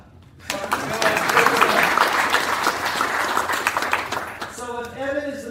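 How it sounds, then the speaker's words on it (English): University sports awards ceremony audience bursts into steady applause, a dense wash of many hands clapping that swells quickly and then tapers as a speaker's voice returns. "You can clap."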